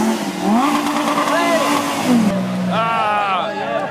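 A car engine revs up and down in short bursts nearby, its pitch climbing and falling, while people talk over it.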